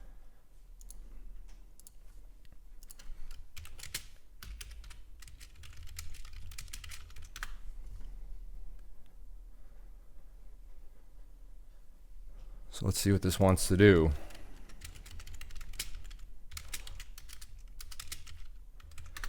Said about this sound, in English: You do hear typing, that's just me making alerts in the chat room that I offer